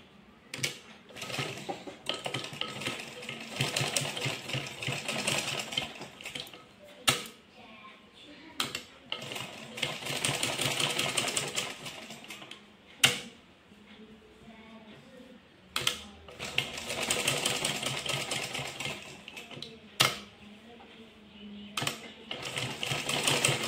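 A sewing machine runs in repeated bursts of rapid mechanical stitching as it sews a neat seam line on fabric in a tailoring shop, with brief pauses between runs.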